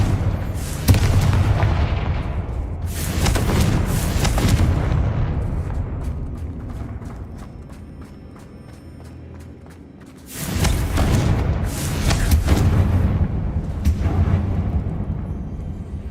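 Confringo blasting spells going off in the video game Hogwarts Legacy: heavy booming explosions in two long bursts with rumbling tails, loud and close, with a quieter stretch between them.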